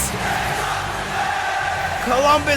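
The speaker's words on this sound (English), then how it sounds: "I know the crowd loves them some Bryan Danielson" Arena crowd in the WWE 2K24 wrestling video game, a continuous loud roar of cheering voices that swells toward the end, with a commentator talking over it.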